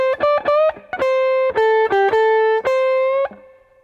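Close, loud electric guitar plays the second half of a beginner blues solo, quick picked notes moving between a few pitches, then longer held and bent tones that ring out to a soft finish.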